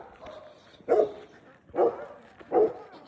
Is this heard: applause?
no